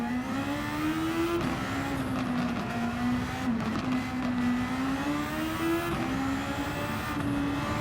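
A Formula 1 car engine in a racing video game, a loud, high, strained whine that holds steady and dips briefly at gear shifts, continuous for several seconds with no voices.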